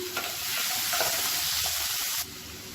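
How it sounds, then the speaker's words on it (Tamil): Tomatoes sautéing in hot oil in a pan, a close, even sizzle with stirring that cuts off abruptly near the end, no voices. "ரெண்டு பழம் எடுத்துருக்கேன் தக்காளி பழம் இதை சேர்த்துக்கலாம் இதை சேர்த்துட்டு நல்லா மசிஞ்சு வர்ற அளவுக்கு நல்லா எண்ணெயில் வதக்கிக்கலாம்"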